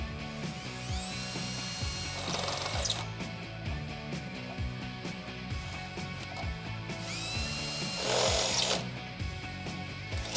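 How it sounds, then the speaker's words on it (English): A power drill whirs in two short bursts, revving up and winding down, drilling holes for Smittybilt XRC body cladding on a four-door Jeep Wrangler JK, amid steady mechanical clicking and workshop clatter. "We're going to drill out the 3 holes, one in the front, one in the back"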